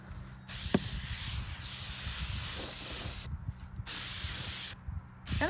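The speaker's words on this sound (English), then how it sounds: "I'm just gonna spray it." Amsoil Mudslinger aerosol is sprayed onto a vehicle's snorkel horn up close in three hissing bursts: a long first one, then two shorter ones separated by brief pauses.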